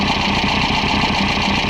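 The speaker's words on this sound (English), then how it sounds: "Got the noisy exhaust on here." A car with a loud aftermarket exhaust idles close by at a car show, giving a steady throbbing drone with an even pulsing rumble and no break.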